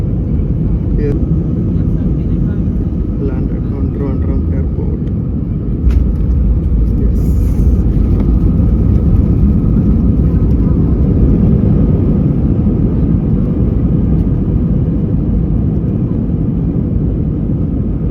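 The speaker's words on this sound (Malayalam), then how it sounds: "landed on Trivandrum Airport." An airliner lands at Trivandrum Airport, heard from inside the cabin as a loud, steady engine and road rumble with a firmer thump partway through, while a person talks over it.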